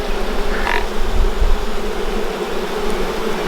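Honey bees at a beehive in a New Zealand homestead apiary give off a dense, continuous droning buzz, loud and close, with a brief higher whine from a single bee passing near.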